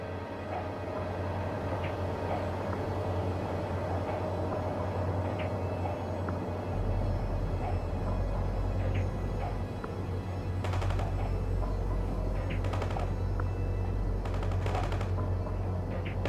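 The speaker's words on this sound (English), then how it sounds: "Let's see what happens when this enemy vehicle tries to speed past your infantry squad." An enemy vehicle rushes past an infantry squad under fire in the World in Conflict game, a continuous low engine rumble with rapid bursts of gunfire crackling over it in several clusters.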